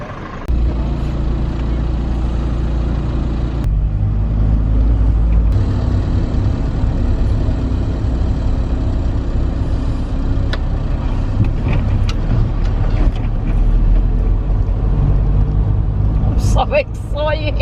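Lorries and cars roll off the Isle of Wight ferry in a slow queue, a steady low engine rumble and idling throughout, with voices talking over it and a few clunks near the end.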